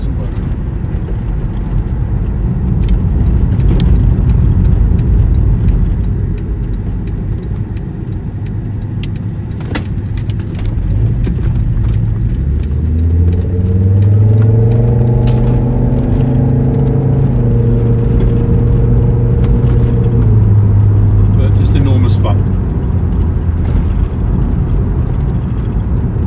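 A 1997 Volvo 850R Estate automatic cruises along the road in traffic, its engine a steady drone with a clear rising and falling tone midway as the revs change, heard from inside the car.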